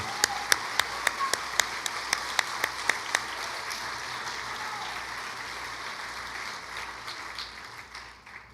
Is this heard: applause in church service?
yes